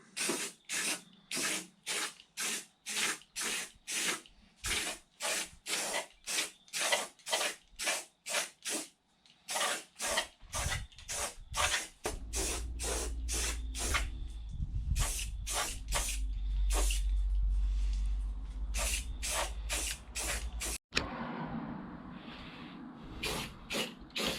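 Aerosol paint sprayed in repeated short bursts, then longer continuous hissing passes, putting a first coat on a motorhome bonnet; close and loud, with no talk.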